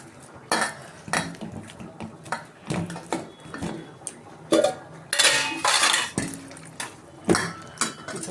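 A metal spoon stirring boiled peas into vegetarian ghugni in a pan, giving repeated scraping clinks and knocks against the metal in uneven bursts, close and fairly loud.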